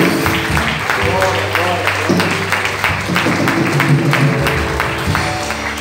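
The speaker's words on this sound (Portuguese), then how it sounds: "Você pode aplaudir o Senhor?" A church congregation applauds steadily and loudly, mixed with music and voices.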